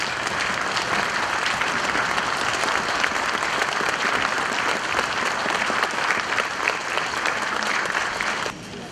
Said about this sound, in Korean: 기립박수로 이 두 분의 할머니께 경의를 표할 것을 제안드립니다.